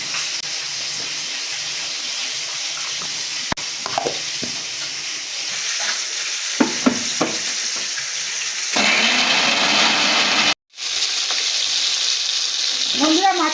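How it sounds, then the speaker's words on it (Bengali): Katla fish frying in a pan with spices, a loud continuous sizzle with intermittent crackles and pops, growing denser and louder partway through, with a brief cut near the end. "বন্ধুরা, মাছের এক পিঠ আমার ভালো করে ভাজা হয়ে গেছে, এবার আমি অন্য পিঠ উল্টে একইভাবে ভেজে নেব।"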